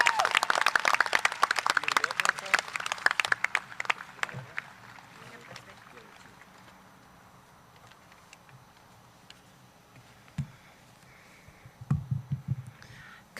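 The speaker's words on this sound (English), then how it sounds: "Parents, let's give a big round of applause to the winners of the 280th class." Parents clap for award winners of the 280th class at a graduation awards ceremony, a burst of applause that fades over several seconds into a quiet room with scattered thumps and rustles.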